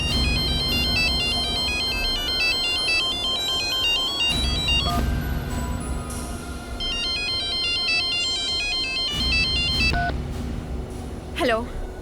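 A melodic phone ringtone plays loudly and repeats in looping phrases, with a short electronic chirp near the end.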